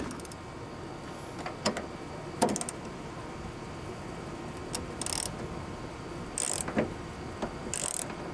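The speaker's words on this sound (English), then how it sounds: "You can give them a little turn with the ratchet." A ratchet snugs bolts on a Ford Ranger manual side mirror, giving short bursts of clicking separated by pauses, close and moderately loud over a soft background.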